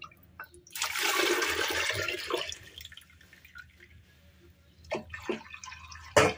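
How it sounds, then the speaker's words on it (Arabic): A milk and yeast mixture pours into a cooking pot for homemade raib yogurt, a loud rushing liquid stream for about two seconds, then quieter trickles and a few sharp splashy knocks near the end. "غادي نكب فيها الخليط ديالي ديال الحليب مع الفلو"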